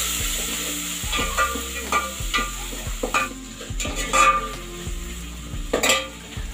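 A spoon stirs green chili and tomato in a cooking pot on the stove for dal dhokli, with scraping, clinking knocks against the pot and a soft sizzle underneath, close and alone.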